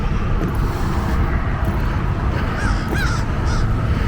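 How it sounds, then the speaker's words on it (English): Crows waiting for peanuts beside a busy road give a few caws, heard over loud, constant traffic rumble. "Here's my crows."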